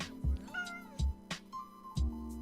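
A cat meowing several times in short rising calls, close and clear, with low thumps between the meows.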